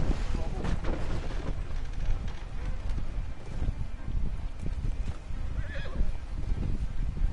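Horses in the Red Dead Redemption 2 video game whinny and neigh loudly over steady clip-clopping hooves and gusty wind, with a few sharper calls standing out through the continuous game soundscape.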